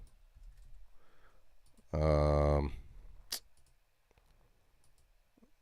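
A computer keyboard gives scattered, light clicking keystrokes at close range, with a brief spoken word cutting in partway through.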